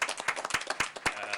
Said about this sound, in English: I would want you to hold your applause for someone else up here